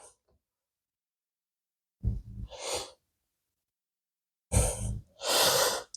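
Breathing during a yoga flow: two clusters of deep, audible inhales and exhales with a sighing release, close and clear against silence, with a short faint breath sound at the start.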